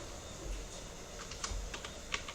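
Computer keyboard typing while working in Android Studio, a few soft, quick key clicks in a short scattered cluster, faint against low room hiss, with no talking.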